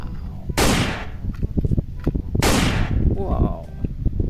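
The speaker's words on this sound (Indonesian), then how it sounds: "amazing little pistol." A small toy pistol gives two loud, bright bursts of electronic gunfire-like sound effects a couple of seconds apart, with clicks and rattles of handling and a voice talking between them.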